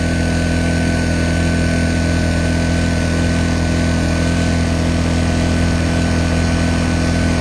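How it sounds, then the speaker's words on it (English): A Yamaha EF1000IS inverter generator runs at full load during its warm-up cycle about ten feet away, giving a steady, loud engine drone with a constant hum and no change in pitch or level throughout. "This is as loud as this generator is going to get."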